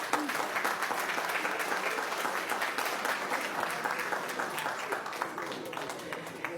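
A crowd at a school board meeting applauds the first graduating class of an adult education center, steady dense clapping filling the room throughout without a break.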